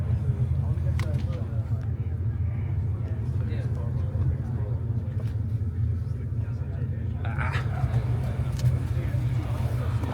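A Lamborghini Revuelto supercar at a cars and coffee meet gives a steady, low engine rumble throughout, with people talking over it.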